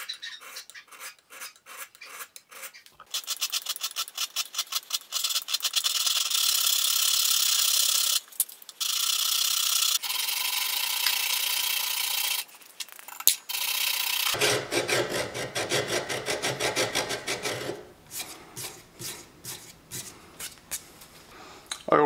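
A hand file works along the bevel of a handmade blacksmith's knife, a steady rasping scrape in continuous strokes with short pauses, loud and close, with brief handling noises between passes.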